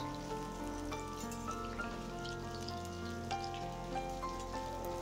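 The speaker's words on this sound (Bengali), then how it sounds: "মিডিয়াম টু লো ফ্লেমে এই বড়াগুলো এখন আমি ভেজে নিচ্ছি।" Fritters made of potato, semolina and peanuts fry in oil over a medium to low flame, giving a steady, quiet crackle of tiny pops. A faint electrical hum sits underneath.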